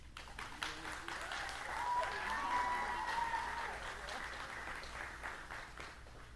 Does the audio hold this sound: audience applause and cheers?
yes